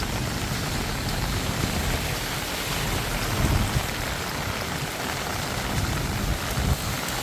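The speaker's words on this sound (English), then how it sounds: "It was raining really hard like 10 minutes ago" Steady, heavy monsoon rain pours down in Bangkok without a break, a dense wash of hiss and patter filling the whole clip, close by and loud.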